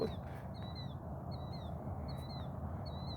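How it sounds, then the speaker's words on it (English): A young bird repeats a short, high, slurred call about once a second, five times, over a constant low rumbling background. "That bird is in training"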